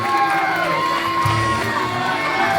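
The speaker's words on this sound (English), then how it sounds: "And listen to this crowd." A wrestling crowd at an SKPW event cheers, whoops and shouts right after a jackknife-cover three count, a dense roar of voices holding steady throughout.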